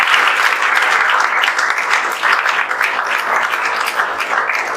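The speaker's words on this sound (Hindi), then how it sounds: "तो इसके लिए तो और जोरदार ताली आप लोग बजा दीजिए" An audience at a celebration for JEE Main exam results breaks into dense, sustained applause, many hands clapping loudly and evenly throughout without pause.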